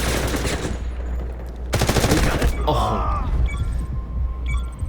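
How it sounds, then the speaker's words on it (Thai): Bursts of automatic gunfire in the shooter game Delta Force, with a sharp rapid volley in the middle and scattered single shots, near and loud, over a low background drone and brief indistinct voice sounds. "ยิงไปก่อน ยิงอีก"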